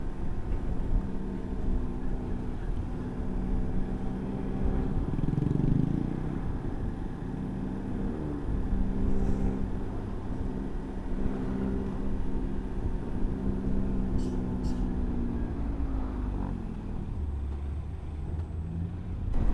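Road traffic on a Bandung–Jakarta highway, including lines of trucks, rumbles continuously as heard from a Kawasaki Versys X 250 motorcycle. The low engine and road noise swells gently near the middle, and no voices are heard.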